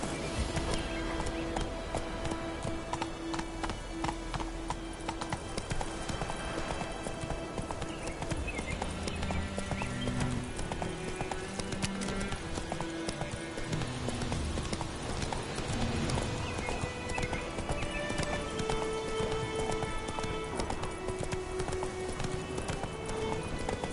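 Roach, a horse in the video game The Witcher 3, gallops in a long, steady clip-clop of hooves with a faint whinny, set under a continuous bed of game music and ambience.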